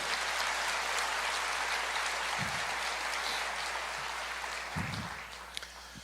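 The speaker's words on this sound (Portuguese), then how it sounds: "Pode aplaudir o Senhor aí." Sustained applause from a church congregation, a steady, even wash of clapping at moderate distance with no voices, gradually thinning toward the end.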